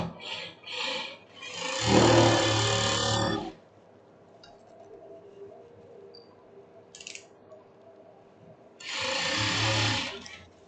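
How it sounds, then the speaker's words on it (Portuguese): An overlock machine sews a seam on silk in short bursts, a loud close mechanical whir running about a second and a half, then a pause with faint handling clatter before another burst near the end. "Vamos aqui para o overlock."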